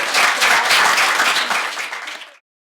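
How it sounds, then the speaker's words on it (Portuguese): A classroom group applauds for a student named Noel, a dense burst of many hands clapping close and loud that holds steady for over two seconds, then cuts off sharply. "Uma salva de palmas pro Noel."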